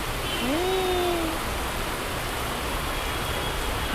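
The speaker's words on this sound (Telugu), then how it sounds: "వర్షం పడుతూనే ఉంది" Steady rain falls in an outdoor lot of second-hand motorcycles, a dense, even wash of noise throughout, with a brief tonal whine near the start.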